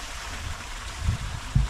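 Water running along an old watercourse down farm terraces, heard as a steady wash with a couple of low gurgling splashes near the end.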